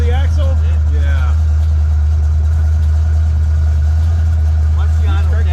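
A 347 V8 Fox Body Mustang notchback drag car idles in a shop with a loud steady low rumble throughout, while people talk over the engine.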